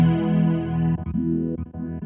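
Donner HUSH-I PRO travel guitar through its built-in chorus effect, a shimmering, warbling sustained chord followed by a few strummed notes, close and alone.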